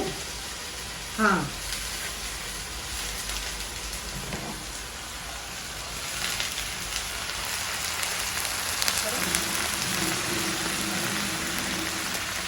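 Prawns frying with onions in hot oil give a steady, close, rain-like sizzle throughout, with a few brief louder spatters and a faint voice in the background.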